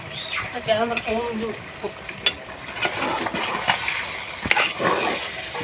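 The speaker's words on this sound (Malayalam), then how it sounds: "ഇളക്കിക്കോ ഞാൻ ഇളക്കട്ടാ ഒരു കൈ കൊണ്ട് ഇളക്കാൻ കിട്ടില്ല" Liver, trotters and meat are stirred as they fry in a pan, with a steady sizzle and repeated scraping of the spoon close by. Someone speaks briefly over the cooking.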